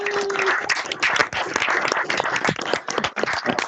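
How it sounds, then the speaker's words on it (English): Applause from participants in an online meeting, a mix of uneven, overlapping claps with choppy dips in level, as if several separate feeds are clapping at once, with faint voices underneath. "give a virtual round of applause to the President"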